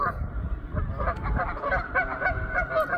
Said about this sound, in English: These are called Canadian geese, if you haven't recognized them.